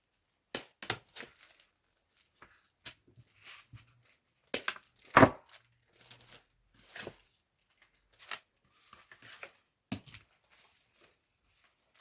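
Scissors snip flower stems one at a time while building a birthday floral arrangement, giving several sharp, close cuts with soft rustling between them and no talking.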